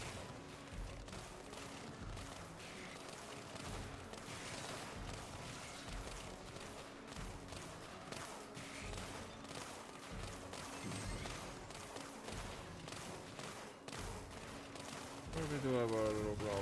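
Blast cannons fire repeatedly in a strategy video game, a dense, continuous barrage of booming shots under steady game noise, with a brief tonal effect at the end.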